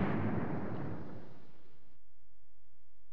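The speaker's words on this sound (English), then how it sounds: "The bomb will explode when you press the A button." A bomb detonates in Commandos 2 on the original Xbox, a deep, rumbling blast already under way that fades out over about two seconds, leaving near silence.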